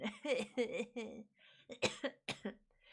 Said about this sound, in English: I got a little bit of a cough still